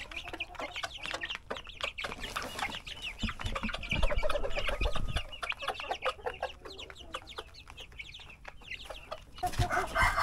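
Native chickens cluck busily and repeatedly up close in a farmyard, a scattered run of short calls with occasional rustling and louder bursts.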